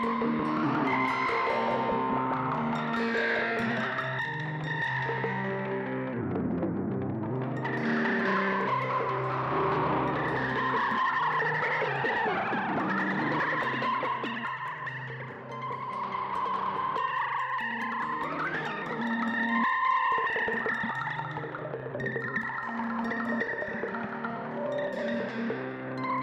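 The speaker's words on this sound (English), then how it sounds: "Crinkle controls the friction, creases, and splices of our tape." A guitar run through a Strymon Magneto tape echo pedal with its crinkle control raised, giving dense, warbling, gritty sustained chords with wavering pitch and crackly texture, played loud and continuous with no talking.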